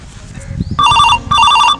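Telephone ringtone in a Bhojpuri comedy sketch, two loud electronic ringing bursts with a short gap between them, after some faint background voices.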